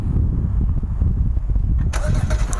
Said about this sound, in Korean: 그러면 자동으로 시동이 걸립니다